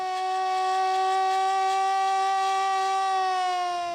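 A civil defence siren wails over Mantova with one loud, steady, sustained tone that holds evenly for the whole stretch, with no voices.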